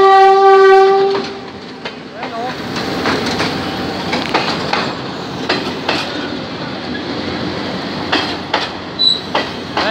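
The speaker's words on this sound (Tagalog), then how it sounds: "Ayan yung train, mga kaludyo, ang bilis oh." A PNR train speeds through Paco station in Manila, opening with a loud horn blast before the rumbling clatter of wheels and cars passing close by, with squeals and rattles, a voice briefly heard.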